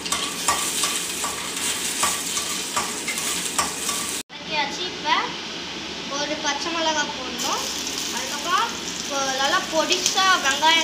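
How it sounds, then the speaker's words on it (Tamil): Mustard, cumin and fennel seeds dropped into hot oil, a steady loud sizzle and crackle with a short pause and then fresh sputtering as more seeds go into the pan. "முதல்ல கடுகு போடுறோம், அதுக்கப்புறம் சீரகம் போட போறோம்"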